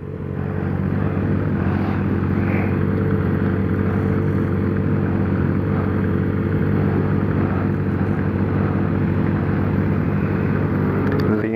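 A Honda CB1000 motorcycle engine drones at a steady idle or low rumble nearby, continuous and fairly loud with a deep throb, holding level throughout with no clear revving.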